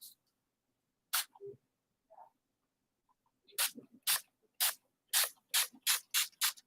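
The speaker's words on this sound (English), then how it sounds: "So I'm just going to mist it, and it's going to give it kind of a granulated effect." A spray bottle mists a watercolor painting with a series of short, sharp hissing spritzes, a few spaced bursts and then a quick rhythmic run of about eight sprays, close and alone in a quiet room.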